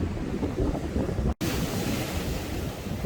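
Irish Sea waves breaking at the water's edge by Blackpool's North Pier, a loud continuous wash of surf with heavy wind buffeting the microphone and a brief cut partway through.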